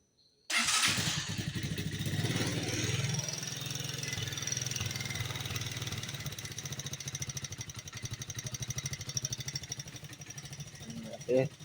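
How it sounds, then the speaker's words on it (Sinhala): A homemade vehicle's engine cranks on its electric self-starter and catches, then runs with a steady, loud, close mechanical chatter, ending in a brief revving burst. "මම පෙන්වන්නම් මේක සෙස්ටා වලින් ස්ටාර්ට් වෙන විදිහ."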